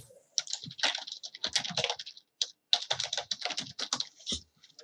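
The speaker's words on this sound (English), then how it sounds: "then you can just type your message and hit enter" Quick bursts of keystrokes on a computer keyboard as a chat message is typed, uneven clusters of clicks with short pauses between, close and fairly quiet, no voices.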